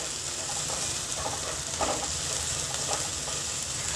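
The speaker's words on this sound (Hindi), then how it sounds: "तो चलिए अब हम इसमें अपने कटे हुए शिमला मिर्च डाल देते हैं।" Chopped capsicum fries in a pan for a Mughlai paratha, a continuous close sizzle with faint stirring scrapes at intervals and no talk.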